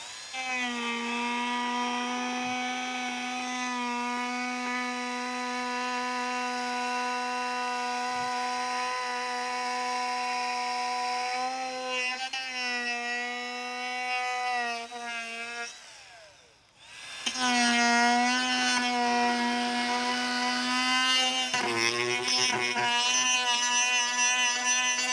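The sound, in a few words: Dremel tool cutting plastic trim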